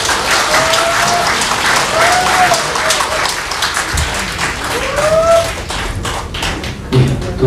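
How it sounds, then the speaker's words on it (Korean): An audience at a press conference about a special prosecutor claps in sustained, loud applause that fills the room, with a few thumps near the end. "큰 박수로 환영해 주시기 바랍니다."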